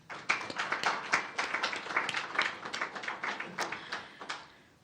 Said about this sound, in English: I think this team deserves a round of applause